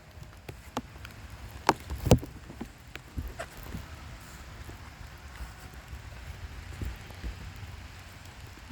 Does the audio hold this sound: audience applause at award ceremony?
no